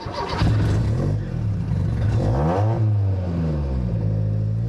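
Honda S600 fitted with a supercharged, fuel-injected 1.8 litre twin-cam engine revs hard through a Super Trap muffler, a loud, close barking rasp that rises and falls in several sweeps without pause.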